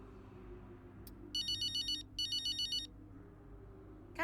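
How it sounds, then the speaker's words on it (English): Phone ringing in the F1 23 racing game, two distinct electronic ring bursts in quick succession, clear and alone over a quiet background hum. "let's go ahead and scroll through the news and get that phone call"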